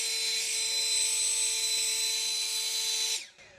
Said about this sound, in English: Here's a few leaves that we can kind of blow around to show you what it does.